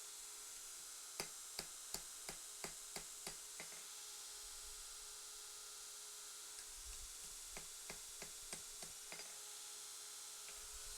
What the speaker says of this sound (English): this thing's not hardened yet, so I may be able to actually hammer it back